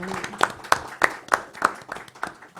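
Scattered audience clapping at a school launch event, a handful of sharp, spaced claps standing out over a thin, uneven patter in a hall, with a little background voice.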